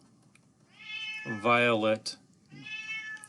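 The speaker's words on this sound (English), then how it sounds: "it sounds like my cat wants to be part of the presentation here" A house cat gives a loud, drawn-out meow close by, with a couple of softer mews around it, while a person keeps talking in a lecture-style presentation.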